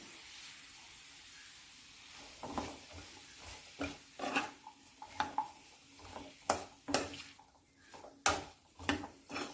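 A spoon stirs and clinks against a pot of bottle gourd curry seasoned with salt and turmeric, giving a series of sharp scraping knocks over a faint sizzle, coming faster toward the end.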